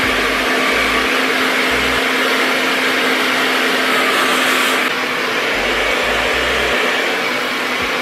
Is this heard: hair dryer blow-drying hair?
yes